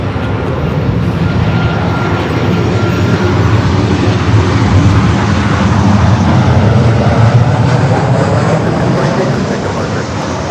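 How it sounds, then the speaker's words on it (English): Alaska Airlines Boeing 737-800 arriving at LAX from Seattle on the north side, a steady loud jet roar that holds throughout without a break. "Next arrival here on the north side, Alaska, flight 487, coming up from Seattle, the 737-800"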